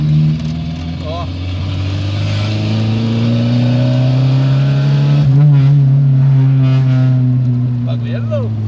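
A Volkswagen Golf revs on a city street, its engine note rising and swelling steadily, loud and close for the whole stretch, with voices talking nearby.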